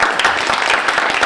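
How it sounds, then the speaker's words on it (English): Brief burst of audience applause at a Laguna Woods Democratic Club monthly program, dense steady clapping from a room full of people. "Yes, clap for that."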